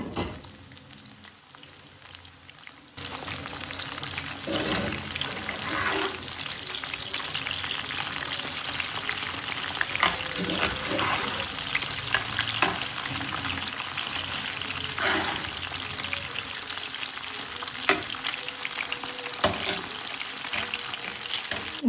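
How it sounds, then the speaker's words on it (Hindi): Strips fry in hot oil in a pan over medium heat, a steady close sizzle and crackle that runs without a break, with occasional stirring. "इन स्ट्रिप्स को हम लोगों ने गोल्डन ब्राउन करना है, ज़्यादा ओवर कुक नहीं करना वरना ये सख्त हो जाएंगे।"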